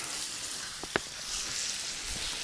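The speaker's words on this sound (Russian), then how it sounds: "Свежий налим, только пойманный на сковородочку" Freshly caught burbot fries in a pan outdoors at a taiga beach, giving a steady broadband sizzle at close range, with a couple of brief clicks partway through and no talking.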